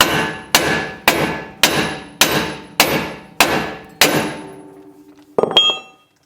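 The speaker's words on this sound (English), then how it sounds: "Take that nut off, loosen this up and bust it loose." A hammer strikes a Ford F-150 tie rod end to bust it loose, eight loud, evenly spaced metallic blows with ringing decay, then a final sharper clang after a short pause.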